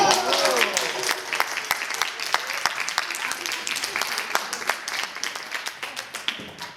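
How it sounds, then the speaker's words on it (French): An audience applauds steadily, with many hands clapping in a dense patter that slowly thins toward the end. "On les applaudit, bravo!"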